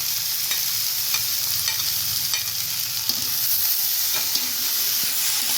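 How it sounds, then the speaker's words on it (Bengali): Yardlong beans and potatoes fry with sesame seeds in a little oil, a continuous close sizzle with intermittent stirring scrapes and taps, steady throughout. "এই যে বরবটি আর আলুগুলো সব দিয়ে দেবো, আমি দিয়ে সুন্দর করে ভেজে নেবো।"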